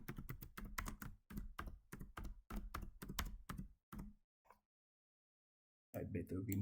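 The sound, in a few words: typing on a computer keyboard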